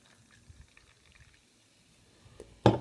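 Mega Force energy drink is poured into a glass; after near silence, a short, loud splash of liquid starts at the very end.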